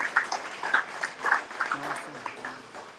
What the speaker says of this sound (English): So thanks for turning up and give yourself a round of applause.